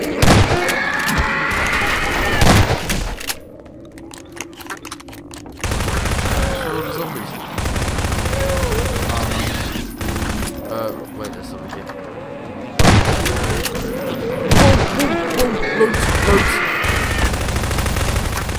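Rapid gunfire from a zombie-fighting Garry's Mod game erupts in loud, dense bursts, broken by quieter gaps, then sustained volleys return toward the end, with a player talking over parts of it.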